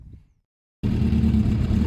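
A BMW F650 motorcycle engine abruptly starts after a brief silence, then runs steadily at a low rumbling idle while warming up, close and fairly loud.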